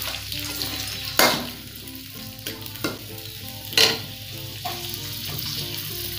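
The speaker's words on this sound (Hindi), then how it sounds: "अभी इसमें शामिल करेंगे हम प्याज, चॉप किए हुए 2 प्याज। इसको कर लेंगे ब्राउन।" Two chopped onions fry in hot ghee in a kadai, a loud, close, continuous sizzle punctuated by a couple of sharp spatula scrapes as they are stirred.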